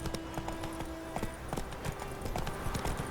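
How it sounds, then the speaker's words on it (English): A horse gallops in The Witcher 3, its hooves beating a quick, even clip-clop rhythm at moderate distance for a few seconds, with soft background noise. "Run, Roach."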